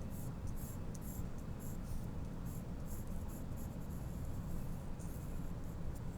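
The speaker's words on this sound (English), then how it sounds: "we will draw a line that's parallel to the front of the prong" A pencil drawing a steady line on paper, giving a continuous soft scratchy rub that runs close and quiet without breaks, with no voices over it.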